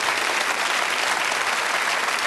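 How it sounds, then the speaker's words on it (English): Studio audience applause on a 1995 game show, a dense, even wash of clapping that stays steady and close throughout. "Give her a round of applause."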